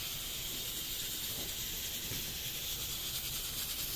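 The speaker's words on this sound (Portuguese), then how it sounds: "É só o necessário para refogar o alho e a cebola." Garlic and onion sauté in a little olive oil with a steady, soft hiss of frying that stays even and continuous throughout, close and fairly quiet.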